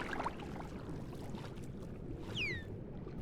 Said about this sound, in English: Can hear a dolphin.